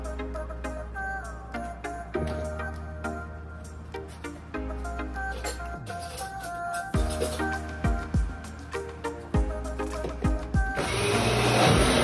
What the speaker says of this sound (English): we're finished blending the peanut